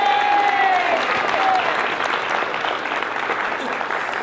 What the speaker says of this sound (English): Ms. Kristen Bravo deserves the highest round of applause, and we will accept on her behalf.